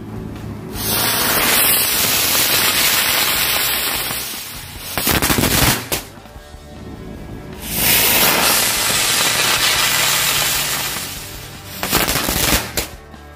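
Lotus flower firecracker going off outdoors beside a toy robot, a loud continuous spray of hissing, crackling bursts with two sharp surges partway through, ending in a final flurry.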